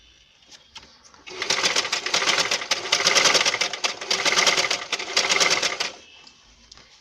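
A sewing machine stitching elastic onto palazzo pants runs in one close, steady burst of rapid mechanical whirring for about four and a half seconds, with quiet gaps before and after.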